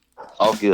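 Household dogs, just woken, let out a short yip and whimpering bark in a quick burst, close and loud, while someone speaks briefly over them.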